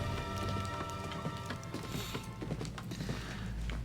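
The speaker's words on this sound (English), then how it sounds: "It's raining outside." Rain patters steadily outside in the Vauquois mines level of the Valiant Hearts video game, with a faint mechanical ratcheting mixed in and no talk.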